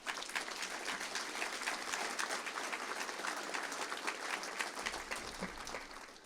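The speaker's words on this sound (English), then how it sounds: "Give that a round of applause." A faculty and staff assembly audience breaks into sustained applause, a dense, even wash of many hands clapping that holds steady for several seconds with no voices over it.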